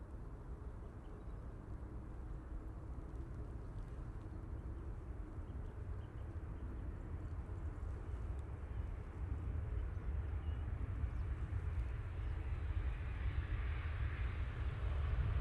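An airliner on approach to land at Manchester Airport, a broad, steady low roar that swells slightly as it draws closer, with no talk over it.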